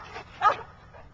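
A single short dog bark or yip stands out, with fainter whimpering sounds just before and after it.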